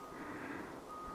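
A truck backing up on the Grizzly Lake Trail area in Tombstone gives steady reversing beeps, faint and distant, under outdoor background noise.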